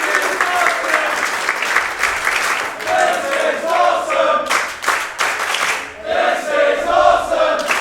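A wrestling crowd at an independent show, chanting and cheering loudly in rhythmic surges with bursts of clapping, and the energy dipping and swelling across the stretch.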